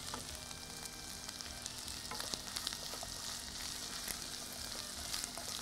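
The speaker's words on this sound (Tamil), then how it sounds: "இந்த குடமிளகா வதங்கும் போதே" Capsicum sautés in a pan, making a continuous soft sizzle and hiss with scattered faint crackles, low and even, with no voices.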